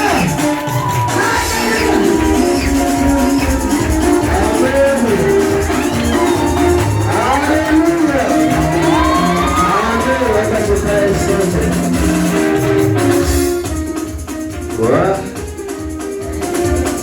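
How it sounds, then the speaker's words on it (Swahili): A church congregation at a New Year's Eve night vigil fills the room with loud, sustained crowd noise, high ululating trills and cheers rising over a dense wash of applause and voices throughout. "Gelegele na makofi mazuri."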